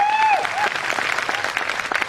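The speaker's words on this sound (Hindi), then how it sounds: "एक बार जोरदार तालियां आप लोगों को।" Audience applause at a network marketing event, dense clapping from a crowd with a whistling tone sweeping over it at the start.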